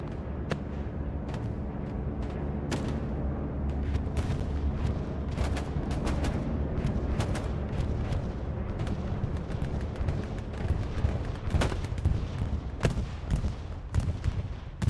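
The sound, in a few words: bombing run explosions in the video game Hell Let Loose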